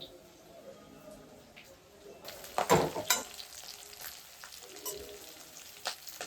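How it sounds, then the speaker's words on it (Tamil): Chilli powder and curry leaves sauté in a pan, a low frying hiss that swells into a louder burst of sizzling and stirring midway, then settles back to a quieter crackle. "மிளகாத்தூள் லைட்டாக வதங்கினதும் கருவேப்பிலை லைட்டாக ஒரு அரை கைப்படி கருவேப்பிலை"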